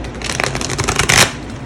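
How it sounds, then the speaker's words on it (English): Thick-cardstock tarot cards being shuffled, a dense riffling flutter that builds to a louder burst of snapping near the end, close and alone. "The cardstock is kind of hard to shuffle on these."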